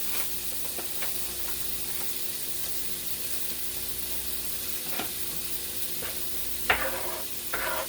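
Mushrooms sizzle steadily in a pan while a meatloaf is being made, a soft continuous hiss near at hand with a few sharp clatters of stirring toward the end.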